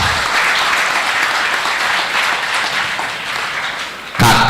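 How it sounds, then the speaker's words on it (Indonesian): Applause from an audience at a Scout (Pramuka) anniversary ceremony in Tegal, a steady dense clatter of many hands that runs nearly unbroken, dips slightly near the end, then swells again loudly. "Tepuk tangannya."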